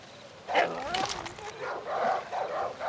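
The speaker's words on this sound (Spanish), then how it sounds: "Hay perros ladrando." Dogs bark in the video game Far Cry New Dawn: a few yapping barks and whimpering yelps at moderate distance, mixed with a voice talking over the game sounds.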